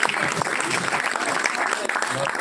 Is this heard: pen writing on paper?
no